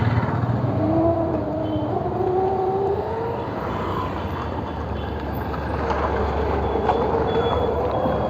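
An Ather 450X electric scooter being ridden in sports mode, with steady wind and road noise and a faint rising motor whine throughout, close and continuous.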